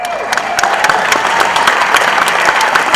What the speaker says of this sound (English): So please, keep that applause going for Stephen Ramos and Architecture for Humanity in Charleston.